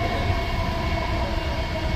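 Steady rumble and rolling hum of the JFK Airport AirTrain riding along its elevated track in New York, continuous and fairly loud with no talking, as the train slows.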